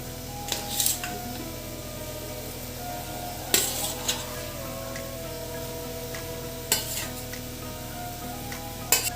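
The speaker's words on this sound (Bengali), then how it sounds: "ঝোলটা ফুটে গেছে, এবার আমরা মাছগুলো দিয়ে দেবো।" Bata fish pieces go into a pan of boiling yogurt-and-chilli gravy, with a low steady bubbling broken by a few sharp clinks and splashes spread through the simmer.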